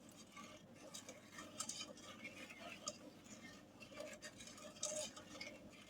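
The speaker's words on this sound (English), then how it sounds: "And you want to stir slowly, not vigorously." A candy mixture is stirred slowly in a pot, with soft, irregular clinks and scrapes of a utensil against the metal over a faint background hiss, close and quiet.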